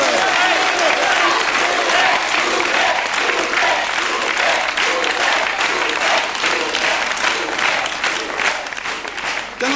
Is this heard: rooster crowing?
no